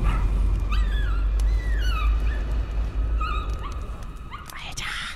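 A dog barks and whimpers repeatedly in the background while gameplay from the horror video game Layers of Fear plays, mixed with a steady low rumble and squeaky sounds.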